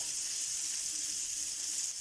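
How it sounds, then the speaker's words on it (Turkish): Horse mackerel frying in a pan gives a continuous bright sizzle and crackle, steady and close, with no talking. "Biz sadece az bir şey fazla kızartırız ki kısıkları yansın diye."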